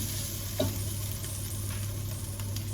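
Vegetables sizzle steadily in a hot pan on lowered heat, with a soft stir scraping through near the start; a constant low frying hiss continues without any voices.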